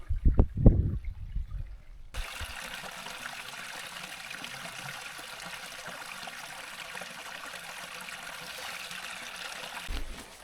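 A small burn (Scottish stream) trickles and babbles continuously after a few thumping handling noises at the start; no voices.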